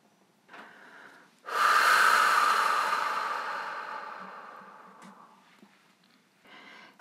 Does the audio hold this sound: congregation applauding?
no